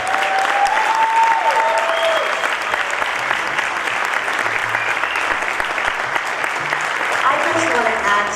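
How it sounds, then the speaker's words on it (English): Applause from the audience at a Philadelphia Prevention Partnership event, a dense and steady round of many hands clapping that fills the whole stretch, loud and sustained, with some voices faintly underneath. "you're going to have to help me give him a huge round of applause to Hector Ayala."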